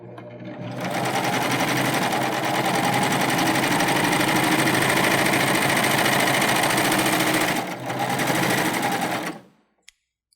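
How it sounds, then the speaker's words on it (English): A Baby Lock Euphoria machine sews a narrow cover stitch on lightweight jersey, running loud and fast in one sustained burst, briefly dipping near the end before stopping abruptly. "let's go to a narrow cover stitch and I'll show you how easily the Euphoria handles very lightweight"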